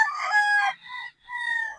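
A young bull stag gamefowl rooster crows close by, one loud strained call in two parts with a brief break between.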